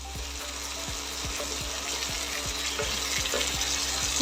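Onions sizzle and fry steadily in oil in a pan as the base for a prawn gravy, a continuous close crackle with a faint rhythmic ticking and no talk.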